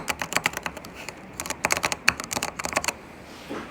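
A fidget toy tapped and clicked against a table, rapid bursts of sharp, close clicks in quick uneven runs, pausing briefly before another flurry and then trailing off.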